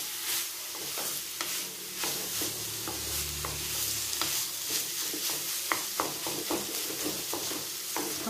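Potatoes for masala dosa stuffing cook in a pan with very little oil, giving a steady close sizzle broken by scraping stirring clicks, with no talk.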